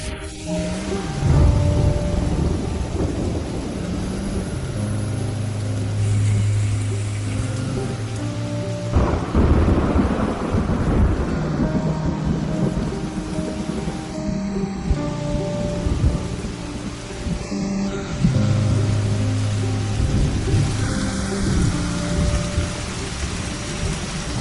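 Heavy rain pours down steadily and dense, while rolling thunder rumbles repeatedly through it. The storm sounds close and loud, with no voices.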